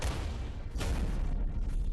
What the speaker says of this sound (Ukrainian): Він стріляє в тебе обережно.